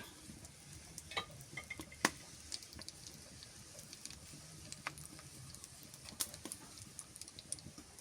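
Two whole spices drop into hot oil in a home kitchen pan and sizzle faintly. A soft, steady hiss carries a few sharp crackles and pops scattered throughout.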